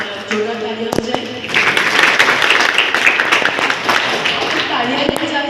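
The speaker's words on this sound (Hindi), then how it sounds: "ये जोड़ा तालियां हो जाए" Applause from an orientation program audience at Global Skill Parks in Bhopal: a few sharp claps, then dense, loud clapping rising after a second and a half and continuing steadily, with a voice heard near the start.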